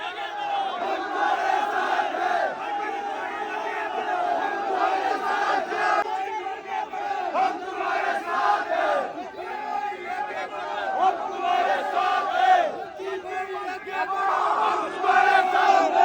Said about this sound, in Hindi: भाई बहुत ज्यादा भीड़ हो गई है,